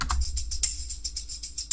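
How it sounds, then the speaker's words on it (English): A looped tambourine in a pop-folk beat plays a steady run of quick jingling hits, bright and even, with a faint low pulse beneath and no voices. "And then I have this tambourine loop."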